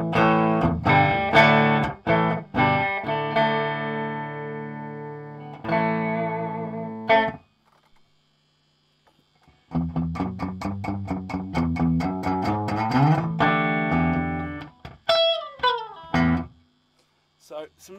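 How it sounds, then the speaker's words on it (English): Electric guitar played through an Analog Alien Rumble Seat delay pedal: distorted chords and single-note phrases with repeating echoes trailing off, a short silent gap, then a busier picked passage ending in bent notes. "So, some nice delay settings there"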